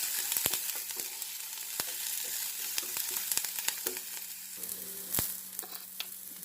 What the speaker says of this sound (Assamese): এইখিনিতো পিঁয়াজখিনি ভাজি লৈছোঁ।